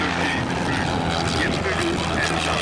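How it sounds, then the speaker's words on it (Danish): A Van's RV-6 propeller aircraft takes off at an airshow in Roskilde, its engine a steady, loud drone with airscrew buzz running throughout, alongside background crowd noise and faint voices. "And now taking off, it's what I think is a lot of Van's RV6 aircraft."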